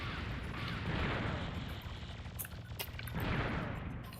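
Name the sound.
rapid gunfire in a video game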